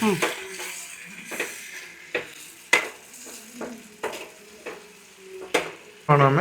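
Asafoetida powder sizzles in a frying pan while being stirred, a continuous fry hiss punctuated by repeated sharp scrapes and taps of the utensil against the pan at irregular intervals.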